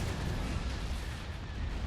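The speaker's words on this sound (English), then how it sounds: "Hypervelocity cannon firing." A hypervelocity cannon fires in a Star Wars space battle game, a dense continuous rumble of booming blasts, steady and moderately loud throughout.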